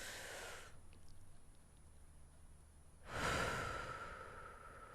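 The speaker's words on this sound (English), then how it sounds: "we're going to take another deep breath" A slow, deep breath in during a guided healing meditation, soft airy inhalation from about 0.7 to 3 seconds, followed by a louder, fuller exhale toward the end, close and alone with no talk.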